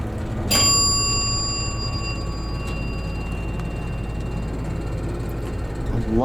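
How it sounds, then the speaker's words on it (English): A single bell on a Dover hydraulic elevator in a university library building rings once, loud and close, then hums away over a low machinery rumble. "Love that bell."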